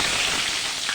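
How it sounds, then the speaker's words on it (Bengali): Potatoes drop into hot oil in a kadai already tempered with cumin and black cumin, raising a dense, steady sizzle that stays loud and close for the whole second. "আলু দিয়ে দিচ্ছি"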